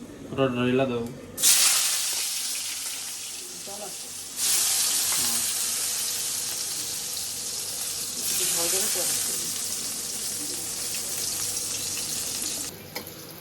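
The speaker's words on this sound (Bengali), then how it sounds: "এই যে বন্ধুরা বেগুনটা ভাজা হয়ে গেছে" Brinjal pieces rubbed with turmeric and salt sizzle in hot oil, a steady broadband crackle in bursts with brief stirring gaps, preceded by a short voiced sound at the start.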